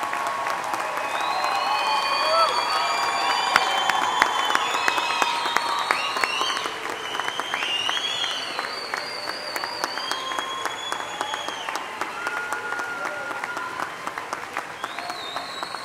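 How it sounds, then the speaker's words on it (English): A commencement crowd applauds the bachelor's degree candidates at a spring graduation ceremony, a long, full and steady wash of clapping with some cheers and whistles running throughout. "you're applauding for candidates for a degree"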